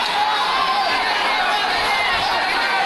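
Large stadium crowd at the Carifta Games athletics meet, restless and displeased during a delayed race start caused by faulty starting equipment; a dense, steady roar of chatter and shouting carries throughout.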